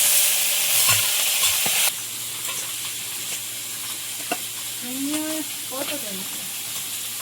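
Koi fish sizzling in hot oil in a pan as it is stirred: a harsh, loud frying hiss at the start drops to a steadier sizzle, with scraping stirs and a voice speaking briefly.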